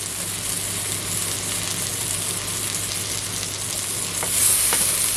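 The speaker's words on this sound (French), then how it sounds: "un feu vif, on fait revenir tout ça" Rougail saucisse ingredients fry over high heat in a pan, a steady close sizzle and hiss that swells a little louder near the end, with a couple of faint utensil clinks.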